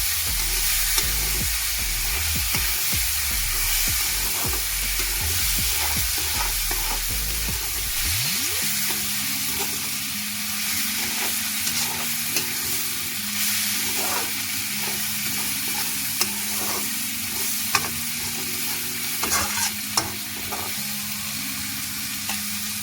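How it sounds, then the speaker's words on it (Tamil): Tomatoes are stirred into a sizzling mixture in a pan, with steady frying hiss, a spatula scrape near the start, then ongoing sizzle with occasional clicks of the utensil. "இப்போ தக்காளி பழத்தையும் இதோட சேர்த்து அப்படியே திரட்டி விடுவோம்."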